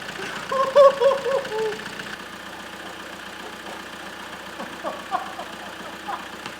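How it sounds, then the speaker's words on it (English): A Ford Mondeo Mk5 2-litre PSA diesel, freshly repaired after broken valve rockers, idles on four cylinders with a steady low rumble and faint knocking, while a loud voice talks excitedly over the first two seconds. "It's running, and it would appear to be running on 4 cylinders!"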